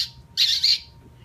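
A voice imitates the squeak of a rodent in distress, used as a call to attract an owl. It comes as two short, shrill, close squeaks in quick succession with no talk over them.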